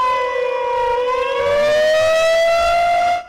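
A tornado civil defense warning siren in McDonough County wails loud and alone, a sustained rising and wavering tone with strong overtones that holds for a few seconds before cutting off abruptly.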